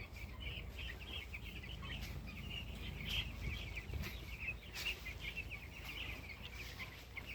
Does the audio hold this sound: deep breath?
no